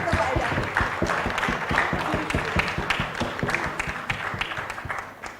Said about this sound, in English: can we take this moment to have a big round of applause for all the BIRAC women?